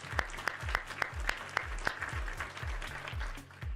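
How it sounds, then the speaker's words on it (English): Applause sound effect played on a live web development stream, a crisp regular patter of claps with sharp individual hits, moderately quiet and continuous with no voices over it. "Round of applause."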